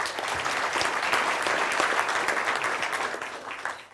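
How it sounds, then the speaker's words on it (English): An audience at the New Plymouth mayoral debate in 2025 breaks into sustained applause, a dense, steady roar of clapping that swells and then tapers off near the end. "A round of applause."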